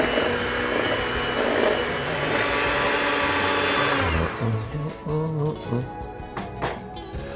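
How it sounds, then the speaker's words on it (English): An electric mixer beats cake batter until it is pale and thick, a steady loud whirring drone that fades out toward the end as a person starts talking. "we're going to mix this up until it's pale and thick"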